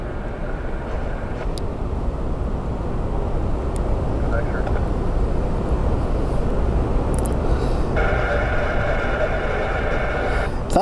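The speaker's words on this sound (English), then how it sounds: "Bahamas Air Flight 487 inbound from Nassau. 737-700." A Bahamasair Boeing 737-700 arrives at Orlando International Airport, its engines a loud, steady, broadband roar that persists throughout, with a higher whine emerging near the end.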